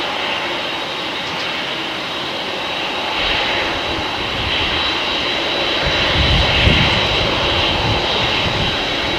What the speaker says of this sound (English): this is Lufthansa flight 457 back to FRA Frankfurt, Germany